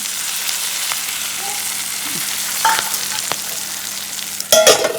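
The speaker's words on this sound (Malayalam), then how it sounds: "വറുക്കുന്ന മീൻ നമ്മുടെ കരിയാപ്പില എടുത്തിടുന്നു" Fish and curry leaves fry in oil with a steady sizzle filling the clip, with a few clinks and a louder crackling burst near the end.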